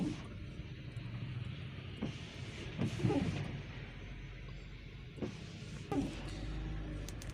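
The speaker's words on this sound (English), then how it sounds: "I'm on another street, driving to industrial area." A car drives along a flooded street in Kampala, heard as a steady interior rumble with a few scattered thumps and knocks from the road.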